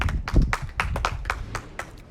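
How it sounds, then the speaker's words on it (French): A handful of people clap for the contestants at a Pop the Balloon event in Douala, Cameroon, with about a dozen sharp, uneven claps in quick succession, close and moderately loud. "Ok, applaudissez d'abord pour vous les filles."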